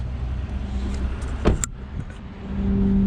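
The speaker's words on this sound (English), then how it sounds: "Power rear tailgate." The power rear tailgate of a 2015 Cadillac Escalade Luxury 4X4 runs with a steady electric motor hum, broken by a sharp latch click midway before the whir continues.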